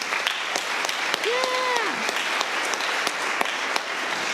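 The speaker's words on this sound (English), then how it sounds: "Can we get a round of applause for them?" Audience applause at an elementary school 8th grade graduation ceremony, steady clapping from a crowd throughout, with a brief voice calling out over it.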